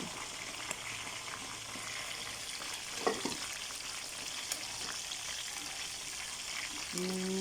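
Chicken pieces for sweet and sour chicken fry in hot oil until brown, giving a steady, moderately quiet sizzle and crackle that runs unbroken, with a few soft clinks and no talking.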